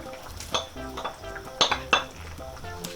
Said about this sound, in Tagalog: Yan, haluin lang po natin.